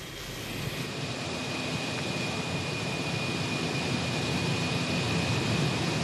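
A helicopter hovers above the peloton during stage 2 of the 2014 Giro d'Italia, heard as a steady broadband engine and rotor roar with a thin whine, gradually growing slightly louder and alone.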